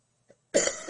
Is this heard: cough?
yes